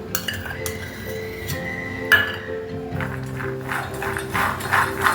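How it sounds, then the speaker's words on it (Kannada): A metal spoon scraping and clinking in a bowl while mixing a paste of roasted peanuts, with sharp taps and steady stirring scrapes close up, a few faint voice sounds underneath. "ಚಮಚದಲ್ಲೇ ಮಿಕ್ಸ್ ಮಾಡಿರಿ"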